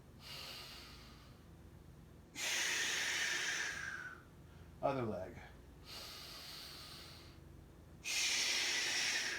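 Heavy rhythmic breathing during a bodyweight strength and balance workout: loud hissing inhales and exhales in bursts of a few seconds each, with a short spoken cue in between.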